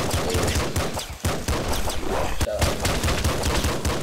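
Rapid, dense bursts of explosive weapon fire and blasts in the video game Nuclear Throne, loud and almost continuous with short breaks.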